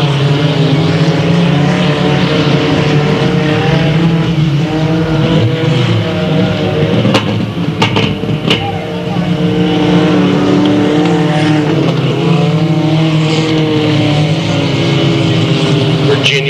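Race cars roar around the eighth-mile Delta Speedway oval in a continuous loud engine drone, with a car sweeping past in a sharp rising-and-falling pass near the middle; an announcer's voice runs faintly underneath.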